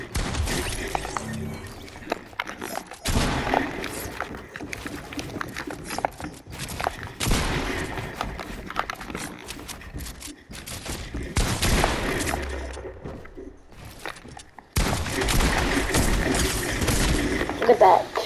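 Pistol gunfire in the video game Fortnite, repeated bursts of sharp shots in clusters across the stretch, loud and close, with voices talking in between.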